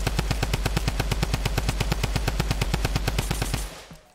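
A sustained burst of rapid automatic gunfire in Fortnite, loud and evenly rhythmic, runs for a few seconds and then stops abruptly.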